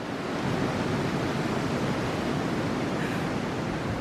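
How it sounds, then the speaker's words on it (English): Wind blowing outdoors on a nature hike with a border collie, a steady broad rushing roar that stays loud and unbroken from start to finish. "Oh, the wind's blowing it away from you."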